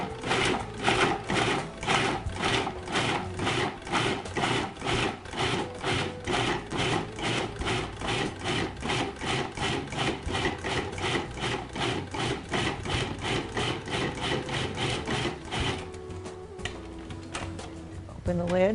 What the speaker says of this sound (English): Put the lid on our processor. This is probably going to be loud, so excuse it.